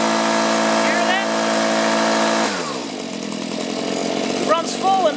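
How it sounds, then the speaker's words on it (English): A STIHL two-stroke engine runs rough and too rich, buzzing steadily at high revs, then bogs and drops in pitch as it chokes out. Its uneven sputtering continues close up, with a person's voice talking over it. "if I let off the throttle and run it again, it'll run nice and smooth, and then it'll start choking out. It's running too rich."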